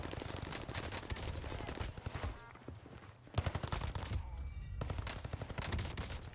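MP5 submachine gun hip-fired in Call of Duty Warzone, loud rapid automatic bursts in quick succession with a short quieter gap midway before firing resumes, close and dense.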